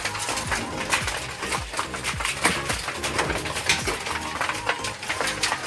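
Young pigeons in a loft peck and flutter while being fed, with dense busy scratching, tapping and soft cooing bursts throughout, near and fairly loud.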